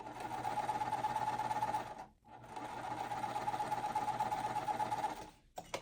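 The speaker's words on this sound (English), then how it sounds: "I especially like stitching triangles together, like as a chain stitch" A sewing machine chain-stitches quilt triangles in a steady, fast mechanical whir, quiet and close, pausing briefly once and again near the end.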